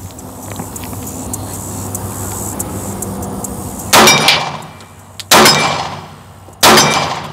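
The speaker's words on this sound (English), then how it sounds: "We'll send a few rounds downrange." Glock pistol with a compensator and red dot firing rounds downrange, three loud sharp reports spaced over a second apart, each with a decaying tail, over a steady outdoor background hum.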